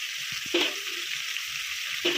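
Spice paste of ground turmeric, chili, coriander, cumin, green chili and ginger sizzles steadily in hot oil in a pan, a continuous bright hiss with a few brief stirring scrapes.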